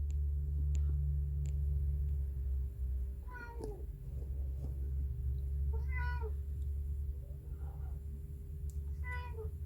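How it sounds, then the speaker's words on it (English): A Bengal cat meows from inside a kick drum, three clear rising-and-falling calls spaced a couple of seconds apart over a low steady hum, fairly close and moderately loud. "my cat is inside my kick drum"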